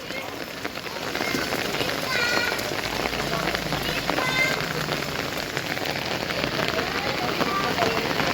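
Heavy rain pours and splashes onto standing water, a loud steady wash, with children's voices and shouts faintly mixed in.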